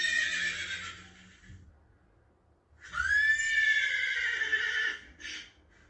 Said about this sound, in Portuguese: É um cavalo!